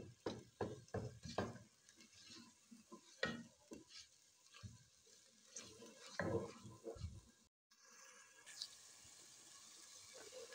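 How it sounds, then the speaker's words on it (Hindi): Spinach frying in masala for a dhaba-style palak chana dal gives a quiet, uneven sizzle with irregular stirring scrapes and soft knocks, a brief pause near the end, and no voices. "पालक को मसाले के अंदर मैं अच्छे तरीके से फ्राई करती हूँ।"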